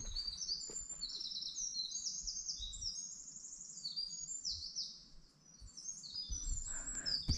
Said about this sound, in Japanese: あ、鳥、 いい声、